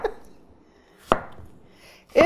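A Yaxell Dragon Fusion chef's knife cuts through food on a board, two sharp close chops about a second apart over a quiet room, with a faint voice-like sound at the very start.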